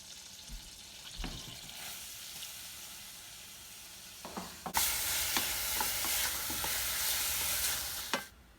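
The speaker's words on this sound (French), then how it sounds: "on va faire revenir les oignons. On les fait suer, les oignons" Onions sweat in olive oil in a pan for a chorizo risotto. A faint sizzle and a few stirring knocks come first, then a much louder, steady frying hiss takes over, close by and alone without voices.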